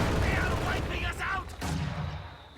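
Mortar and artillery fire in a real-time strategy video game, a few muffled distant thumps and blasts under a busy battle background, with a caster talking over it.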